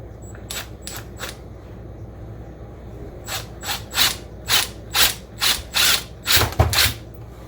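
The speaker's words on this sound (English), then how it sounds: "I'm going to drill a small hole right at this point" A small drill runs in a series of short, sharp bursts, drilling a hole in a lightsaber blade, a few quick spurts and then a steadier run of about eight pulses.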